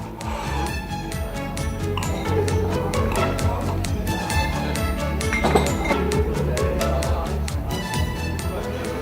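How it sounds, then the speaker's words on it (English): Glasses clink in a celebratory cheers toast, a steady stream of bright chinks and rings throughout amid a bustling crowd with voices chattering underneath. "we all raised our glasses to say cheers"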